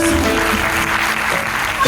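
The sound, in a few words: audience applauding loudly at ceremony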